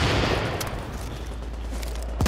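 Sustained, heavy gunfire in the shooter The Division, a loud, dense wash of shots and rumble with a couple of sharper cracks cutting through, no talking.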